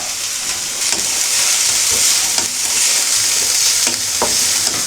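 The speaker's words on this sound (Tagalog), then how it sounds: "Gisa lang natin yan hanggang maging translucent" Garlic sautéing in oil in a pan, a steady loud sizzle with crackling pops and occasional stirring scrapes throughout.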